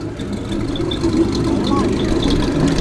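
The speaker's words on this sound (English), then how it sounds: "This TVR Cerberus sounded pretty crazy when it fired up." A TVR Cerberus with the TVR Speed 6 six-cylinder engine idles at an outdoor evening car meet, a steady rough burble that carries on throughout with faint background crowd noise.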